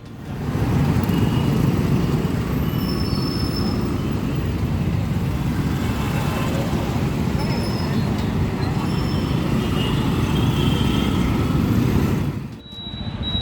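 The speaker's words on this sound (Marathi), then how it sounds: "गाड्या विनाकारण जातात आणि हॉर्न वाजवतात" Steady rumbling city road traffic in Solapur, India, fills the air for several seconds, with occasional brief high-pitched horn tones in the distance.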